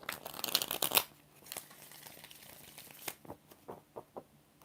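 Tarot cards are shuffled in a quick burst of riffling, followed by several softer separate taps and flicks as the deck is handled, close and fairly quiet with no voices.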